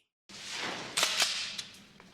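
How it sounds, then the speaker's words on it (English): Shotgun blasts in a RoboCop movie scene: a sudden loud burst of noise, then a few sharp cracking reports close together over a lingering wash, alone with no voices. "Now it's 3 shotguns."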